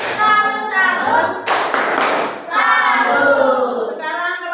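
A group, likely schoolchildren in a classroom, claps a rhythmic chant, bursts of hand claps alternating with chanted voices in a quick call-and-response pattern, loud and close.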